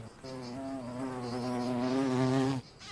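Mud-dauber wasp building its mud nest, giving one close, steady droning buzz that lasts a couple of seconds and then stops abruptly, with no talking.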